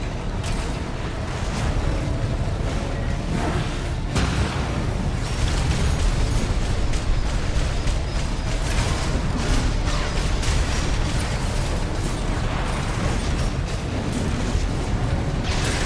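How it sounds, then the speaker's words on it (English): Explosions on the ground in a FromSoftware mecha video game, a dense, continuous roar of blasts and booming impacts layered with mechanical noise, loud and sustained throughout with no voices. "Use your mobility in the air to get clear of explosions on the ground."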